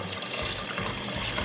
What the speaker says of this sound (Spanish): Ahora sí, vamos a ponerle el agua. Agua que las cubra.